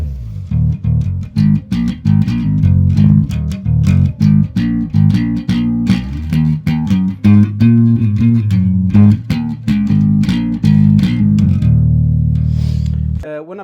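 Bass neck of a custom-built doubleneck guitar, untuned, played with all controls on max: a run of loud, plucked low notes in a bouncy rhythm, ending on a sustained note that rings out.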